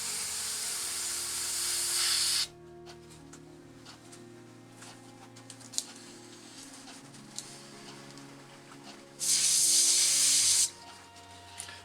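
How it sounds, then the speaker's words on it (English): An airbrush sprays RLM02 grey model paint in two steady hissing bursts, one at the start and another later, with quiet ticks and a low hum between. "I've just been spraying RLM02 first"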